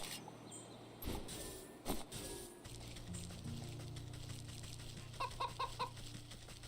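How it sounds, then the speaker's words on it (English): Turkeys in the video game Wytchwood gobble and cluck in a short series of rapid calls near the end, heard faintly against a soft ambient background with a few louder thumps earlier. "Turkeys."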